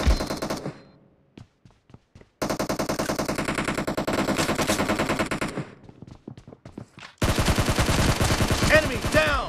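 Automatic weapons fire in the mobile battle royale game Battlegrounds Mobile India, loud rapid bursts broken by short gaps and single shots, with a long sustained spray at the end.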